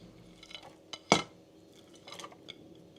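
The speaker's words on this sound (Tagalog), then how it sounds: "Halu-haluin lang natin." Butter, garlic and onion stirred in a pan for chicken à la king, quiet with a few metallic utensil clinks and scrapes, one sharper knock standing out, over a faint background sizzle.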